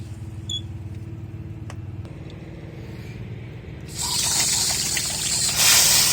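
Water from a garden hose pours into a small patio tadpole pond, a faint trickle over low rumble at first, then a loud steady gushing rush that swells further toward the end.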